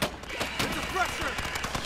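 Gunfire in the Earthfall video game, a dense, continuous rattle of rapid shots up close, with voices talking over the shooting.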